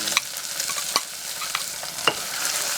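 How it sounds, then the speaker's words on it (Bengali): Tomatoes sizzle in a pan while being stirred for noodles, a steady close frying hiss broken by a few sharp spatula taps. "টমেটোগুলো দিয়ে দিলাম, একটু নাড়াচাড়া করে নিয়ে"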